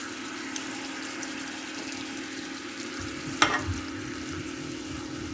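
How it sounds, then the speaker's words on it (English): Butter in a cooking pot for a pantry-and-freezer dinner, a steady, moderate sizzle and bubbling that runs throughout, with one brief sharp clink just past the midpoint. "Okay, so I just threw some butter in."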